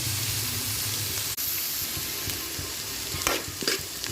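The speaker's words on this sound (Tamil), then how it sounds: "அதையும் நல்லா கலர் சேஞ்ச் ஆகிற வரைக்கும் நல்லா வதக்கிக்கலாம்." Onions and capsicum sauté in a pan for a capsicum chicken gravy, giving a steady close sizzle with a few stirring scrapes near the end and no talk.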